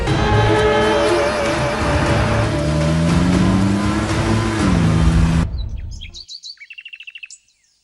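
A car speeds away, a loud, steady engine drone rising in pitch as it accelerates for about five seconds, then cutting off and leaving brief bird chirps.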